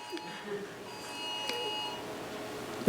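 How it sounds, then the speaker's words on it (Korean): A mobile phone sounds an emergency text alert, with faint steady beeping tones in the room during a Korean church Sunday sermon during the COVID period. "삐삐삐 한번 하면서 뭔가 이제 아마 확진자 동선이나 이런 것들이 여러분에게 문자로 온 것 같은데요"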